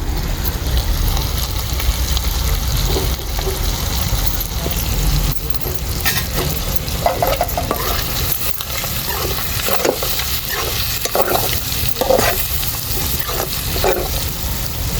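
Chicken skin fries village style in a pan as pounded masala is stirred in, a continuous close sizzle with scraping and clinking stirring strokes becoming more frequent toward the end.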